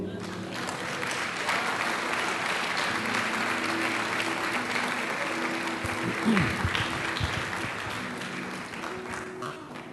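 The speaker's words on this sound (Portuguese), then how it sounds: "Se você crer, aplauda o nome dele." Church congregation claps together during a sermon, a sustained broadband patter of many hands at moderate distance, with a faint voice or tone briefly showing through the middle.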